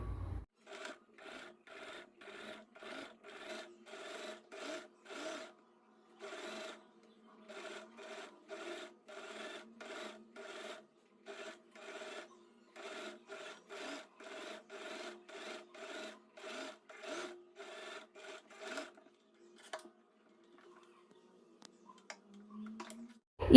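A sewing machine stitches piping onto fabric, giving a faint, steady rapid clatter in bursts with brief pauses. It stops near the end, and small handling noises follow.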